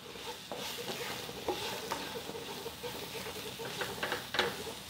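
Drumstick tree flowers with chilli sizzle and fry in a pan, a steady close hiss broken by scraping stirring strokes throughout.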